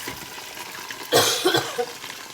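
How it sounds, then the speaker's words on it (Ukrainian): A single harsh cough bursts out nearby, trailing into a brief rough exhale over low kitchen background noise. "Я тут трошки кашляю."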